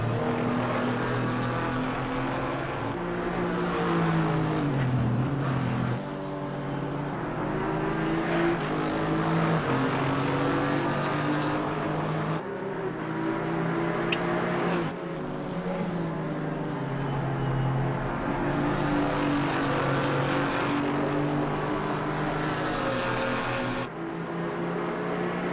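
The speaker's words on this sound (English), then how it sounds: "Down through Dingle Dell they go, and the Porsche still able to hold on to the position out in front." A Porsche race car roars through Dingle Dell at Brands Hatch circuit in a sustained, loud engine drone whose pitch rises and falls as it shifts gears, with other cars' engines blending into the continuous racing noise.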